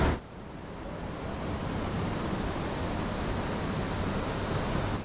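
The Mandakini river near Gaurikund on the Kedarnath route roars with a steady, loud broadband rush of turbulent water that fills the whole clip without a break.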